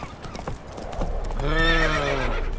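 A horse in The Witcher 3 gives a loud, drawn-out whinny near the middle of the clip, with hoof clip-clops and game ambience beneath it.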